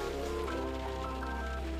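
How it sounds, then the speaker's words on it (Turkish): Steady rain falls in Antalya, a continuous even patter on surfaces that fills the whole moment with no voices over it. "Ve gördüğünüz gibi biraz hava yağmurlu. Hatta bayağı yağmurlu."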